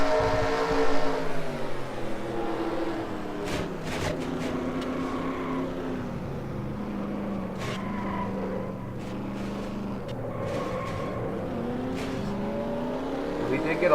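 Stock car racing game, NASCAR-style Budweiser All Pro Series race at the Geico 500, heard from on board: a sustained loud engine drone holds steady through a wreck, with brief impact clatters and scrapes breaking in along the way.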